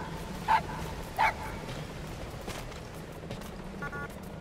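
Dog barking in Metal Gear Solid V, two short barks close together near the start, then a few fainter yips and tones over low background hum.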